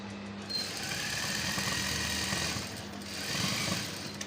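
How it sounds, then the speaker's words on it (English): A sewing machine stitches a native cap, running in a steady continuous whir that stays close and fairly loud for the whole stretch, with a slight dip near the middle before picking up again. "we are sewing to this point here."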